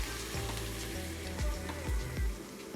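Mussel and flour batter sizzles and fries in hot oil in a pan over high gas heat, a steady close crackle with a few soft scraping stirs.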